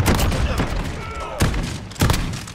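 Shotgun blasts from a VLK Rogue in Call of Duty: Modern Warfare, several sharp loud reports spaced irregularly over dense game noise, with a voice talking underneath.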